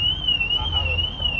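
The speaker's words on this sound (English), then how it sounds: "Does your car have the BMW like alarm or no?" A BMW-style car alarm sounds at a German car meet, a loud steady warbling tone that rises and falls smoothly throughout, with low rumble underneath.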